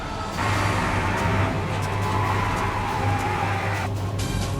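A car drives past in a tense horror drama scene, giving a steady, fairly loud engine rumble and road noise that holds without a break throughout.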